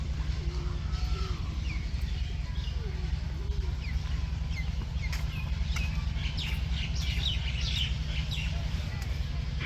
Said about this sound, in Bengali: চারিদিকে অনেক সুন্দর পাখির কিচির মিচির শব্দ